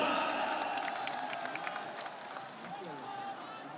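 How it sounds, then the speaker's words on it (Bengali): A crowd at a BNP election rally in Khulna applauds and cheers to welcome the leader Tarique Rahman, with dense clapping spread across the whole clip that fades slightly toward the end, and voices mixed into it. "আমরা সবাই করতালির মাধ্যমে নেতাকে স্বাগত জানাই।"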